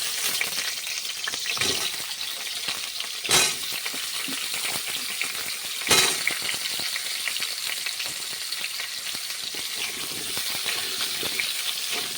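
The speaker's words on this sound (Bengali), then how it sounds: "কুমড়োটা ভেজে নিচ্ছি।" Pumpkin pieces fry in oil in a wok, giving a continuous close sizzle with two sharp clatters of a spatula against the pan and scattered crackles, no one speaking.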